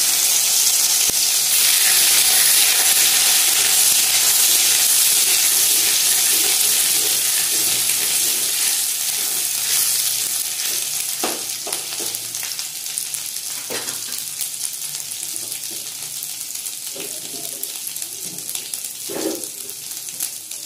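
Ginger and green chili paste fries in hot oil already tempered with cardamom and cinnamon, a loud steady sizzle that gradually softens, with occasional clinks and stirring knocks near the end.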